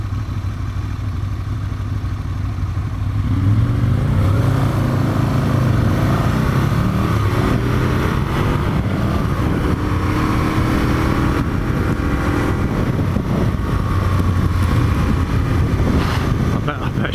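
Aprilia RSV Mille R motorcycle riding through city streets in Sheffield, a steady engine drone with wind and traffic noise that rises after a few seconds and holds, while a rider talks over it.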